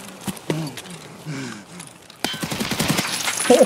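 Gunfire in an Escape From Tarkov fight at Forge Town on Customs: scattered sharp shots early on, then a dense burst of rapid automatic fire that grows louder, with a few voice-like tones mixed in.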